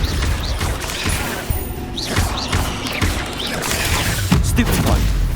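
A spell being cast in combat in the video game Hogwarts Legacy, a burst of whooshing magical energy with crackling impacts and thuds over dense battle noise and music.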